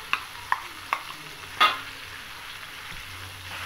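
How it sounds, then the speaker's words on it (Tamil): Ginger garlic paste frying in oil for chicken dalcha, with a spoon knocking the pan a few times in sharp taps and one scrape, over a soft steady sizzle, close and with no talking. "இஞ்சி பூண்டு சேர்த்து நல்லா எண்ணெயில் நல்லா வதக்கிங்க."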